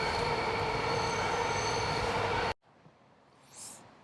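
Train wheels squeal in a loud, sustained metallic screech for a few seconds, then cut off abruptly to quiet ambience with a faint rising sound near the end.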